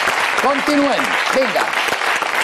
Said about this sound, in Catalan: Aquest aplaudiment per l'equip del programa.